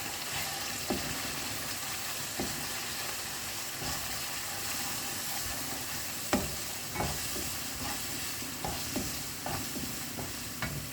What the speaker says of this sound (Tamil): நல்லா இந்த எண்ணெயிலே இதை வதக்கிக்கோங்க.